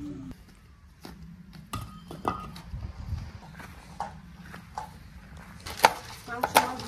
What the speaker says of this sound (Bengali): এখানে অলরেডি পেঁয়াজ কাটা শুরু হয়ে গেছে